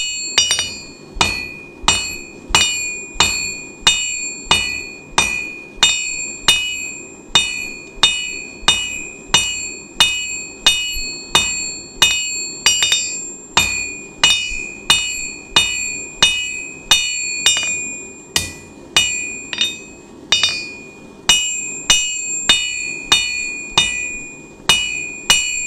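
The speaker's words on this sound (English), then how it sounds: "hanging it off the edge of the anvil and doing half blows, half on, half off the anvil" An 8-inch nail being forged into a hook on an anvil with half-on, half-off blows: loud, ringing hammer strikes in a steady rhythm, about two per second, with metallic clinks between hits.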